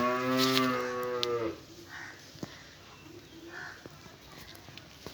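A dairy cow for sale gives one long, fairly close moo, then the air falls quiet apart from faint bird calls and light rustling.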